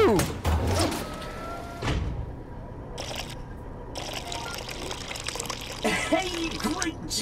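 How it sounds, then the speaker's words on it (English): Liquid poured onto a cube in the Job Simulator video game, a bright trickling splash that starts and stops in short bursts while a voice talks throughout. "Now just pour that blended protein fluid onto the cube and we are done"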